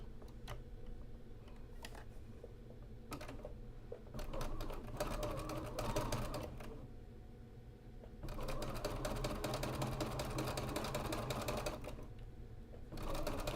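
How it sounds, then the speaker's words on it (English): A sewing machine stitches quilt pieces together with a quarter-inch seam, its steady mechanical whir running in long bursts separated by short pauses and rhythmic ticking, close and fairly loud with no talking. "So I'm going to flip this over so that the pink is at the bottom. And we're going to go ahead and sew."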